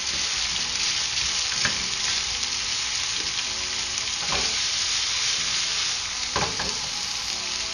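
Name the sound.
stir-frying chicken and vegetables in a pan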